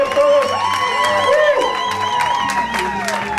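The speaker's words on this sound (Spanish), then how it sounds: "Por favor, un fuerte aplauso, por favor," A crowd at a quinceañera party cheers and whoops with scattered claps, lively voices shouting over one another close by.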